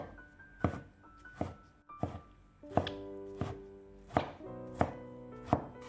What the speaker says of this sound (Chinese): 最后切成小丁。